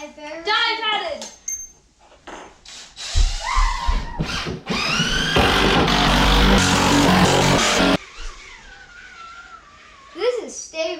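A power drill whines loudly for several seconds inside a 130-year-old house, its pitch rising as it spins up, with children chattering before and after.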